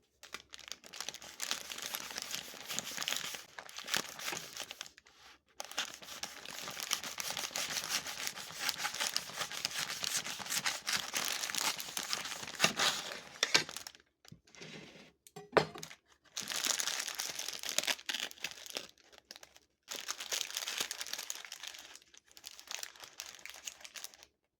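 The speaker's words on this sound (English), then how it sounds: "I decided to wrap the sandwich just so it stays together a little bit better. And I'm going to cut it in half." A paper-wrapped saffron parmesan burger is cut in half, giving long stretches of close crinkling, crackling paper and crust noise broken by brief quiet pauses.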